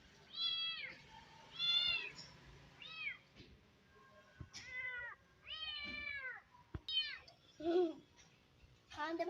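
A pet cat meows repeatedly, a series of distinct rising-and-falling calls spaced irregularly and heard close up in a quiet room.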